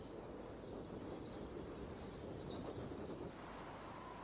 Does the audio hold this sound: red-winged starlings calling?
yes